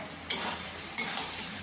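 Fried potato and pointed gourd are stirred into masala in a pan: a soft sizzle runs underneath while three sharp spatula scrapes land close by, one early and two near the end.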